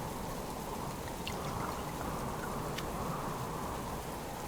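Water pours steadily onto plants in the survival game Subsistence, a continuous trickling splash with no talk over it.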